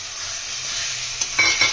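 Peas tipped into a pan of spiced masala already frying, giving a steady close sizzle with a few sharper crackles and spatters as they hit the oil, no voices.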